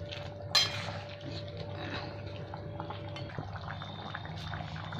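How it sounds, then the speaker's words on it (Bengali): Prawn curry with green jackfruit simmering in a pan on a gas stove, a steady soft bubbling and low hiss, close and continuous, with one brief clatter near the start. "আমার তরকারি প্রায় হয়ে গেছে, আর 1-2 মিনিট ফুটিয়ে নেবো"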